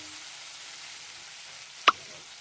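Tomato and ginger paste frying in oil for a vegetarian soybean dish makes a soft, even sizzle close by, broken once by a single sharp clack of a stirring spoon against the pan.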